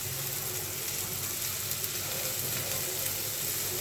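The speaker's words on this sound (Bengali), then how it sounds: "পেঁয়াজ, রসুন, শুকনো মরিচটা ভেজে নিচ্ছি।" Onion, garlic and dried chili frying in oil: a soft, even sizzle that stays low and constant from start to finish, with no talking.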